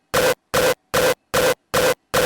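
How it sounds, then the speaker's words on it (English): Six heavy, distorted kick drum hits repeat at a steady tempo, each a short loud burst of gritty noise separated by silence. "so I'm working with the beginning of the kick"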